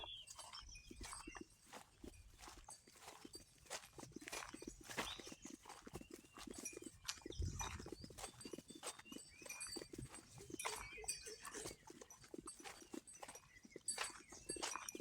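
Faint, irregular hoof clops and shuffling steps of cattle walking on the ground, quiet and somewhat distant, with no voices.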